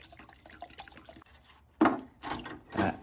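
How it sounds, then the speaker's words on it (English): Water mixed with Simple Green cleaner is poured into a cheap old dirt bike carburetor coated in varnish, making three splashy, gurgling bursts after a stretch of faint handling noise. "Some fresh water, a little bit of simple green going in."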